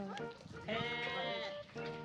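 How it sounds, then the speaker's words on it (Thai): A baby goat bleats on a farm in a rapid, wavering run of high, nasal cries close by. The cries are loud and fill most of the clip, with brief gaps between the calls. "อ๋อลูกแพะ น่ารักจังเลย"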